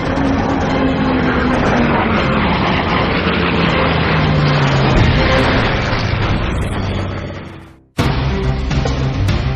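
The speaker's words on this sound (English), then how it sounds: "A squadron of red-tailed P-51 Mustangs of the 332nd Fighter Group soar over Lake Balaton in southern Hungary." Red-tailed P-51 Mustang fighters of the 332nd Fighter Group fly over Lake Balaton in Hungary. A loud, dense propeller-engine drone holds steady, then fades and cuts out abruptly near eight seconds before resuming.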